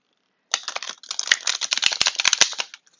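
A quick burst of rapid riffling and slapping tarot cards being shuffled, close and crisp, lasting a couple of seconds after brief silence.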